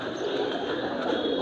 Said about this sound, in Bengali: এই দেখুন, সামনে হাজার হাজার কবুতরের